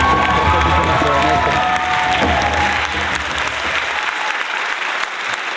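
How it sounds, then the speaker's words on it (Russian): Loud applause at a wedding reception right after a magician's ash trick, mixed with some cheering, then tapering off toward the end. "Громкий аплодисмент только для Сабины"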